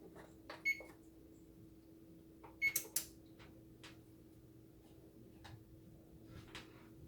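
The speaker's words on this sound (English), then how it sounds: "We're gonna turn our oven back on." A kitchen oven being switched back on gives a few quiet clicks and short beeps over a steady low hum, separated by near silence.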